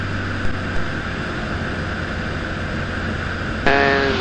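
Steady engine drone of a Jabiru J120 light aircraft in flight, loud and constant, shifting abruptly to a different pitch near the end as the throttle is pulled back for descent.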